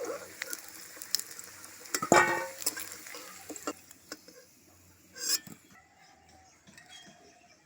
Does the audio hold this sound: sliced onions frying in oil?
yes